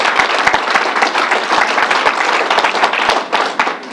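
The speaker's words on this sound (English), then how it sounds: "Let's give him a round of applause." Audience at a New York coronavirus press briefing applauds steadily, a loud, close, sustained patter of many hands clapping with no talk over it.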